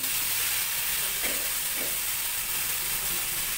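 Thin-sliced pork marinated in calamansi, oyster sauce, soy sauce and black pepper sizzles loudly and steadily in a hot pan, a dense continuous frying hiss with a couple of soft stirring bumps.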